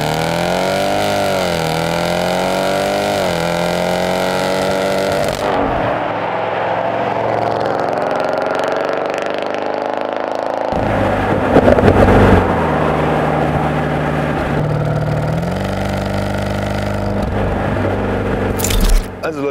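A Jeep Grand Cherokee SRT Trackhawk engine revs up and down loudly and unevenly for the whole stretch, with sharp pops from the exhaust breaking through near the middle and again toward the end.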